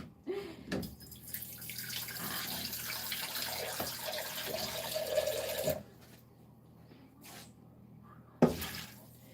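Spring water pours steadily over green lentils in a pot, a close continuous splashing stream that runs for several seconds, then stops, followed by a short softer pour and a clunk.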